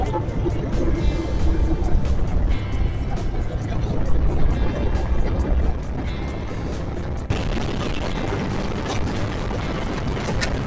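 Group of motorbikes setting off together on a ride toward Bankiput sea beach, engines revving and droning close by in a dense, continuous roar with popping bursts, dropping slightly in level partway through.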